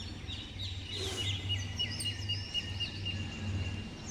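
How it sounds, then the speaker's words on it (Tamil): Small bird chirps outdoors by a doorstep in the morning, thin repeated tweets over a steady low hum, with no talking. "இந்த குருவியுடைய சவுண்ட் எப்படி இருக்குது பாருங்கள்."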